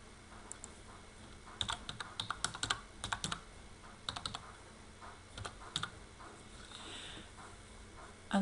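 A username and password are typed on a computer keyboard in irregular clusters of quiet, close key taps separated by short pauses, with no talking.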